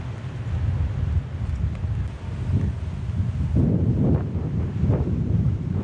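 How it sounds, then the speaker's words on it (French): Strong gusting wind buffets the microphone on a mountain summit beside a sheltering building, a steady low roar that swells louder midway and stays heavy throughout with no voices. "Donc le vent est un peu moins puissant ici."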